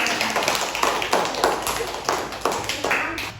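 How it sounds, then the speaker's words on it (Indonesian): Classroom of students claps for a presenting group, a loose, moderately loud run of claps in uneven bursts with no speech over them. "Tepuk tangan untuk kelompok 2."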